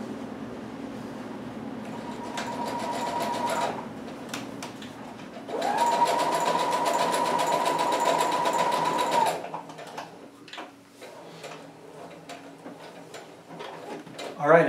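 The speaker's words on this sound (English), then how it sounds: "take the two bottom corners and you'll start stitching them together" A sewing machine stitches pieces of a Batman hood together in two bursts of steady, fast whirring, the second longer and louder. A short quiet gap separates them, and faint background noise follows.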